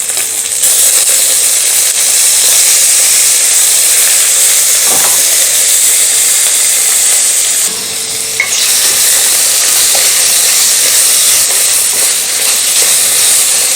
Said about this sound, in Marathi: आता सुरुवातीला आपण कांदा आणि टोमॅटो छान असं भाजून घेऊया